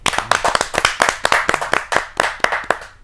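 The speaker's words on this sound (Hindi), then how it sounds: "आपके जोरदार तालियां मिले इस कवि को" Spectators at a Hindi poetry recital (kavi sammelan) clap for a poet, with sharp, distinct handclaps coming close together in an uneven, lively rhythm. The clapping sounds near and fairly loud.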